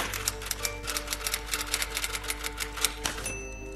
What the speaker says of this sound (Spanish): Pero la cinta de la máquina de escribir no tiene tinta.